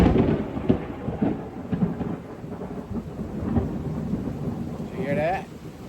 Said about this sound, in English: Lightning and a big old thunderclap.